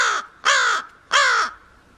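Caged birds give three loud, harsh crow-like caws in quick succession, each call short and ragged, close by with near silence between them.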